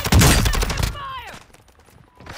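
Rapid gunfire bursts from Call of Duty: Modern Warfare II, loud and dense for about a second, then fading into quieter game sounds with a shouted voice nearby.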